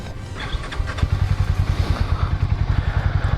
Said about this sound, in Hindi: So let's start this motorcycle.